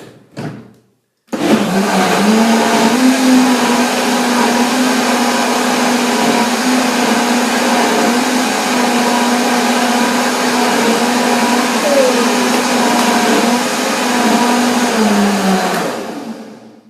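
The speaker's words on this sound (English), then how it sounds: "And one more blender dance." A blender starts after a short click and runs loud and steady, blending pumpkin seeds and water, with a whirring motor hum for about fifteen seconds, then spins down.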